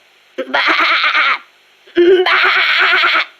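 A person in the video game Metal Gear Solid: Peace Walker imitates a sheep with two drawn-out, wavering bleats, separated by a short pause, close and loud.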